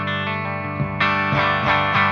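Clean, high-headroom electric guitar fitted with a Hyperion 2 pickup, played through an amp without the Thorn Magma distortion pedal. Sustained chords ring out, with a fresh strum about halfway through, close and fairly loud.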